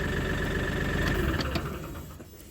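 A Daedong NX600C tractor's diesel engine rumbles steadily nearby, then loses power and winds down as it is switched off, the low throb fading toward the end.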